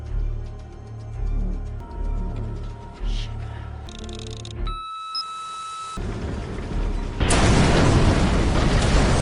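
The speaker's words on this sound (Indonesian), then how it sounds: "tiba-tiba mobil yang tadi ia utak-atik meledak" Engine hum and mechanical clatter give way to a brief hush, then a loud, sustained roaring blast of noise from a car bomb exploding fills the end.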